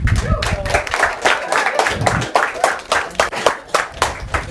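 A classroom of students claps for a classmate during a class 10 coordinate geometry lesson, a loud ragged burst of many hands lasting several seconds, with a voice speaking over it.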